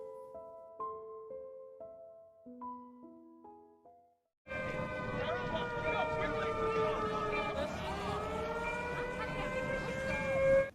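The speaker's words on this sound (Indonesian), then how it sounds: "Tak berselang lama, sirine tanda bahaya tsunami menyala." Tsunami warning siren blaring loud and steady, its wailing tones dipping and rising, entering abruptly after a stretch of quieter musical notes.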